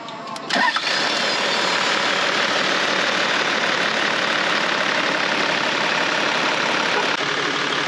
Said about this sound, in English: Gonna crank it over and let it run, get all the air out